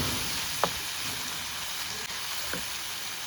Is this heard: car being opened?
no